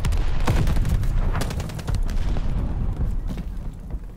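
Rapid gunfire in a Call of Duty: Vanguard multiplayer match, sharp repeated shots and bursts crackling loudly and close, with booming impacts mixed into a busy battlefield din.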